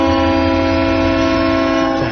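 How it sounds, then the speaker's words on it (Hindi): A train whistle blares loud and steady, a sustained multi-tone horn holding for about two seconds before cutting off, with no voices. "ट्रेन की सीटी"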